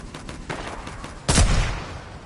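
Pistol gunfire in the Fortnite video game comes as a quick run of snappy shots followed by one louder burst, close and fairly quiet overall.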